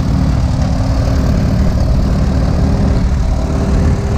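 An antique Case SC tractor engine drives past at a steady, loud low rumble, mixed with wind and the hum of other old tractors in a rural Saskatchewan cruise, with no talk.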